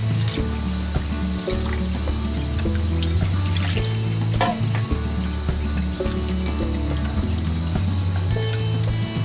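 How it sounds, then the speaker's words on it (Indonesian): Bat meat being washed under running water in a village kitchen, a steady close splashing and trickling from a tap with clinks and knocks of handling throughout. "Cuci dengan air sampai bersih."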